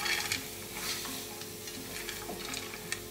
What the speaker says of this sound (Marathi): नीट मिक्स करून घेऊया